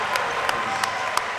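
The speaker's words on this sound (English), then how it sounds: "they got them applauding here in the Ally" A crowd applauds at a high school basketball game, producing a steady wash of clapping that fills the gym, with a few sharper claps standing out at a regular pace.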